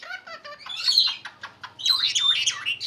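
A lory parrot chatters in quick, bright bursts of squawky chirps and warbling calls, close and fairly quiet, with short pauses between the runs.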